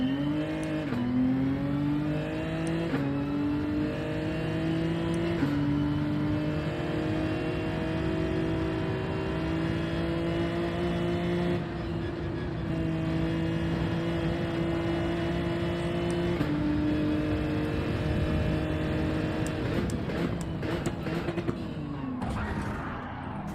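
Race car engines in Gran Turismo 7: a close engine holds a steady tonal whine, rises through repeated gear-shift climbs, and mixes with other cars nearby. No voice is heard.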